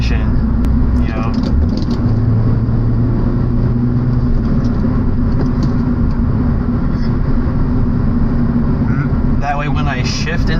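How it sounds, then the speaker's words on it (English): Car engine revving during a rev-match downshift, the revs rising and holding as a steady loud mechanical drone that fills the whole stretch, with a brief higher whine partway through. "when I rev up the engine, I'm not just spinning up the engine, I'm also spinning up the transmission"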